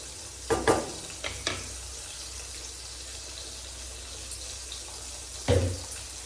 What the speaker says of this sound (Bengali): কুমড়োটা খুব ভালোভাবে ভাজা হচ্ছে